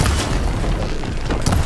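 A weapon shot in the video game Horizon Forbidden West lands as a deep boom within a dense, loud wash of game sound.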